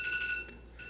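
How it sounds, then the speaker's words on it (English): A phone alarm chimes in a steady, repeating electronic tone, fairly quiet and alone, fading slightly toward the end. "If y'all can hear that. That is my alarm."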